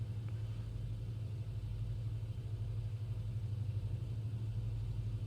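Lockheed Vega 5 engine running steadily in the Prepar3D flight simulator with the mixture leaned, a low, even droning rumble with no talk.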